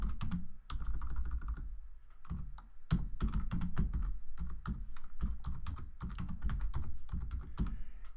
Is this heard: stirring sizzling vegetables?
no